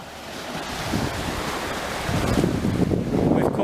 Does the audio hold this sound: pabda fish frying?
no